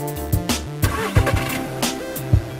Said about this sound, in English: Move the car half a wheel turn.